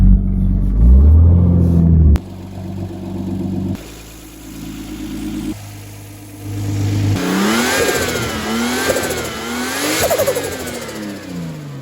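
A 2003 Lexus IS200's 1G-FE straight-six, fitted with a leaky radiator, running nearby, loud and steady at first, then dropping in level and climbing into a series of wavering revs toward the end, with no talk.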